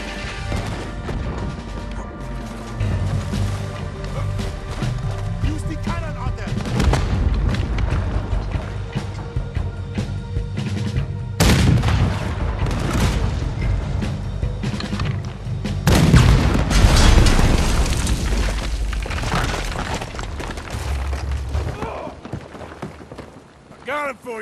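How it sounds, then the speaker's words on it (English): Cannon fire and battle in Red Dead Redemption 2 on a ship: repeated heavy booms, crashes and gunfire roll on through the whole stretch, loud and dense, with voices shouting under the action. "There's another cannon up ahead on our left."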